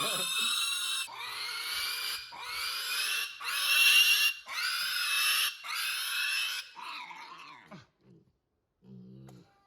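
A pig squeals loudly in six harsh, rhythmic bursts, then trails off into a few soft grunts, close up.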